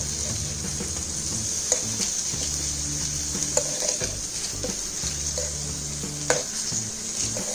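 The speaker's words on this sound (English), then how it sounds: "the cut beans are added and it is fried with onion and cumin, which is already added to it." Cut cow peas fry with onion and cumin in a pan, a steady close sizzle running throughout with occasional stirring scrapes and light clinks of the utensil.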